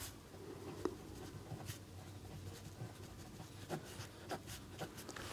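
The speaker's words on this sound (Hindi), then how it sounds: "चित्र में लिख भी देता हूँ।" Pen or marker writing on a Class 9 geometry diagram of a parallelogram, heard as faint scratchy strokes and taps spread through a quiet room with low hum, no talking.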